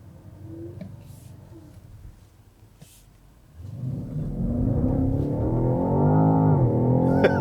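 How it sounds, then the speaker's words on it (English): A 2020 BMW X6 M50i drops out of top gear as the throttle is pressed, and after a quiet stretch of cabin hum its engine note swells into a loud, rising drone that stays strong to the end. "As soon as my foot goes down slightly, it just downshifts, gets out of its top gear."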